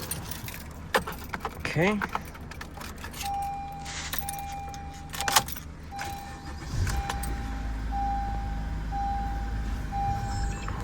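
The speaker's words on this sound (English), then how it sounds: "Now we're gonna go ahead and start the car." A 2013-2017 Honda Accord is started after a battery fuse replacement: keys jangle and chimes beep, then the engine cranks and catches about two-thirds through, settling into a steady idle rumble, with a brief spoken word.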